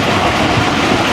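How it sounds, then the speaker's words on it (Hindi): A passenger express train running on rails as it approaches Chichawatni railway station, a loud, continuous close rumble with a steady clatter of the carriages and no voices. "ट्रेन हमारी चीचावतनी रेलवे स्टेशन अप्रोच बना रही है"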